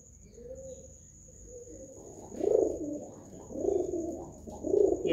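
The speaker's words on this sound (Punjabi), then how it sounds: "ਦੇਖੋ ਕਬੂਤਰੀਆਂ ਪਾਲੀਆਂ ਸੁਨੱਖੀਆਂ, ਸੋਹਣੀਆਂ ਕਬੂਤਰੀਆਂ ਨੇ ਜੀ ਇਹ" Pet pigeons kept by a fancier cooing in three clear swelling bursts over a steady faint insect-like hiss, with no talking.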